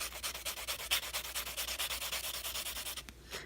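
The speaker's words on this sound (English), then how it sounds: "I'm going to take a buffing block and I'm going to buff this nail to make it entirely smooth" A buffing block is rubbed quickly back and forth across a gel-coated nail to smooth it, making a steady run of about twenty close, scratchy strokes in an even rhythm, with no talking.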